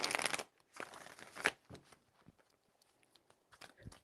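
Tarot cards are shuffled by hand in several irregular bursts of riffling and soft slaps, close and fairly loud, separated by brief quiet gaps and small taps.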